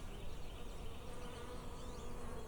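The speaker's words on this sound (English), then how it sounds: "Let's brush off these bees." Honeybees buzz densely over a honey frame pulled from a hive during a summer harvest, a steady close swarm drone with no voices throughout.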